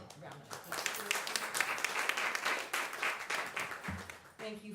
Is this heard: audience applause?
yes